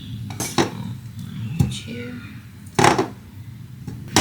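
Ingredients for an onion and shea butter hair mask are dropped into a blender jar, making several close clinks and knocks of utensils against the jar, with quiet background noise between them.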